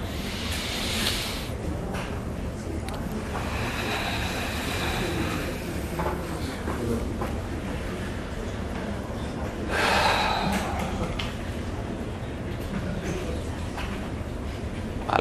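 A deep, prolonged breath during a guided breathing exercise at an emotional education workshop, heard as soft airy inhaling and exhaling over steady room noise, with a louder rush of breath partway through.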